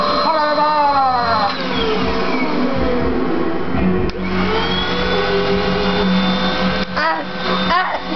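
A vacuum cleaner runs loud and steady for the whole stretch, its motor pitch gliding up and down as it is moved around, while several people talk and laugh over it.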